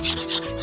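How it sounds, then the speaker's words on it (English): Brief abrasive rubbing of a sanding sponge across painted drywall, two or three quick back-and-forth strokes close up. "I want to roughen the surface a little bit around it, and I'll just use a regular sanding sponge"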